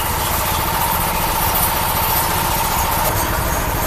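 A train engine runs steadily from inside a carriage seated right behind the engine, a dense continuous mechanical drone and rattle, loud and unbroken throughout.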